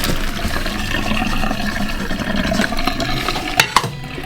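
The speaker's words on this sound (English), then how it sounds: "So I'm going to drain that into a colander." Cooked cauliflower is tipped into a colander, a continuous rush of draining water ending in a couple of sharp knocks.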